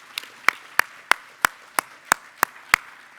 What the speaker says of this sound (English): let's give Sheriff Decatur a round of applause for his leadership